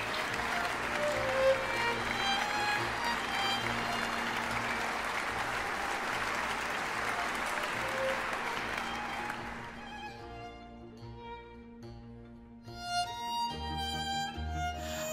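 Applause from an audience at a children's storytelling competition as winners climb the podium; dense, steady clapping fills most of the stretch, then thins and fades into a quieter tail with a few scattered claps near the end.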